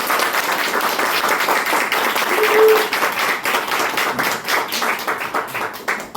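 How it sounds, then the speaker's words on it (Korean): Big round of applause from an audience at a Korean community talk after a leader is honored, dense steady clapping throughout, fairly loud and continuous with a slight swell near the middle. "우리 대표님한테 큰 박수."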